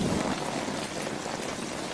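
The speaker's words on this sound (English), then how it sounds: "it rains in torrents for a month" Torrential tropical rain pours down in a dense, loud, continuous hiss with no break or voices.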